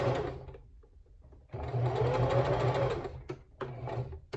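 A sewing machine stitches gathered ruffle fabric for shorts: a brief run of stitching, a pause, then a steady whirring run of about a second and a half, followed by a few short bursts, close and clear.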